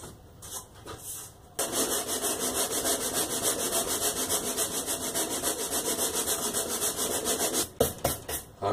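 Hand-shaping wood on a jazz bass build, a fast rhythmic rasping of back-and-forth strokes close up, starting after a short pause and running steadily before stopping briefly near the end.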